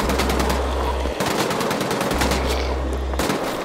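Rapid, loud gunfire from the video game Wolfenstein: The Old Blood, with continuous automatic bursts on Uber difficulty and no speech over it.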